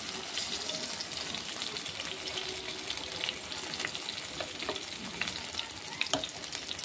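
Masala paste frying in a pan for paneer masala, a steady close sizzle with light crackles and occasional stirring scrapes running the whole time, no talking.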